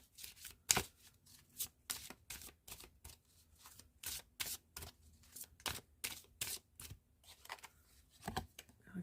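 Goddess guidance oracle cards being shuffled by hand, giving rhythmic bursts of crisp riffling slaps about twice a second, close and clear with no speech.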